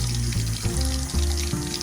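Vegetables and an avocado are washed under a running kitchen tap, a steady close splashing stream with a few soft thuds and clunks as the produce is handled.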